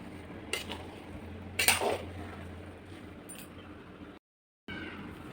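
A metal lid set over a pot of village-style khuder bhat (broken rice with jute leaves), giving a couple of brief metallic clinks and clatters close by, then a quiet stretch with a short gap of silence.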